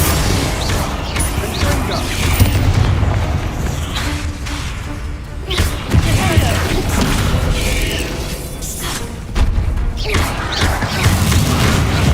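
A Bombarda spell explodes in the video game Hogwarts Legacy, giving heavy booming blasts and crashing impacts amid dense, loud game effects that keep a continuous rumble across the whole stretch.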